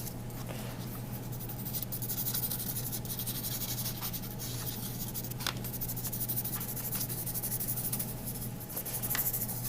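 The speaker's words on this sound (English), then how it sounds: "So I'm chalking every single icicle always on the same side" Chalk scratching across paper icicles in close, steady strokes, a dry rasping rub that keeps going for several seconds with small taps and scuffs between passes.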